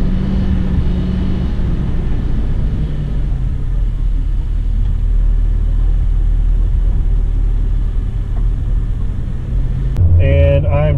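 A low, steady engine rumble from a Jeep Grand Cherokee 4.0 with manual transmission drones throughout as it coasts down a steep hill without revving, ending with a brief burst of voice.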